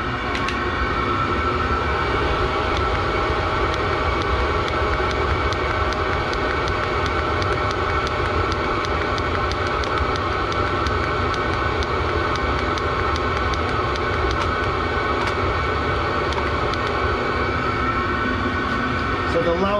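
A diesel garage heater runs steadily at full output, a loud, constant mechanical roar with a faint tonal whine that holds unchanged throughout.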